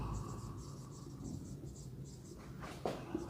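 A pen moves across paper in soft, close scratchy strokes that come in short bursts, faint against a low background hiss, with a brief knock near the end.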